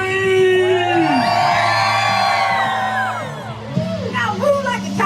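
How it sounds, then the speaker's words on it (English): A crowd at an outdoor charity walk to end epilepsy in Los Angeles screams, whoops and cheers loudly and continuously, with a voice calling out over the din near the end. "Somebody scream!"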